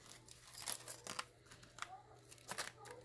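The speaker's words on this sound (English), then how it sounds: "These scissors are dull." Dull scissors trimming paper for a junk journal, giving a few short, close crinkling snips and cuts in bursts against a quiet room.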